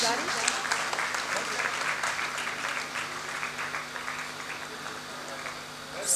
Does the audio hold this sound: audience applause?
yes